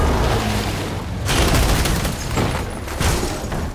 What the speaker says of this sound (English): we went all out with these explosions to make them look dynamic, spectacular